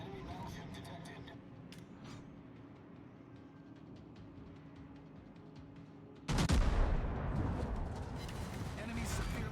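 Warship guns in World of Warships boom in a heavy salvo that abruptly swells into a loud, sustained roar after a low mechanical rumble, with a voice talking under the engine noise.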